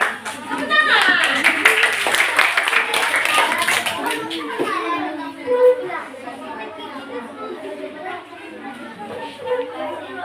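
Fourth-grade pupils clap in a classroom after a group presentation, a loud run of rapid, dense handclaps over the first few seconds that fades into children's chatter and a teacher's voice.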